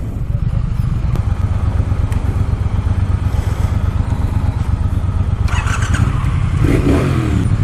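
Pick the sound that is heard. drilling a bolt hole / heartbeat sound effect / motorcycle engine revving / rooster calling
motorcycle engine revving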